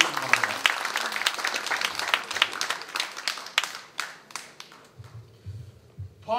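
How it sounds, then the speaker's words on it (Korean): Audience at a party rally for a committee member candidate speech in Jeonju applauds as the next candidate is called to the podium, a scattered, mid-distance clapping that thins out toward the end, with faint talk beneath. "여러분 박수로 환영해 주시기 바랍니다."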